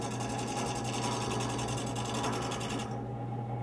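A wood lathe spins a piece of wood while it is turned round, giving a steady close whirring hum with a scraping texture of cutting over it, which drops away near the end.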